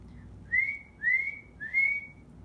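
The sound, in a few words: spring peeper frog peeping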